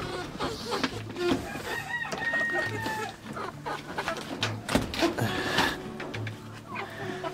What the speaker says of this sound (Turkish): bir tane mesela süseks horozumuz var. Horoz işte.